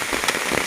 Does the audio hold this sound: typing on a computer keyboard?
no